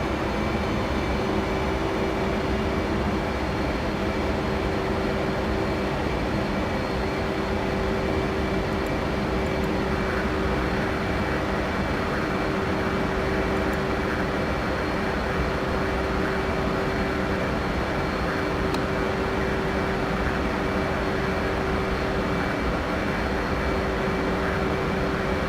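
Steady, loud jet engine roar from an F/A-18C Hornet on landing approach in the DCS combat flight simulator, a continuous broadband drone with a faint sustained tone, constant throughout and heard alone without talk.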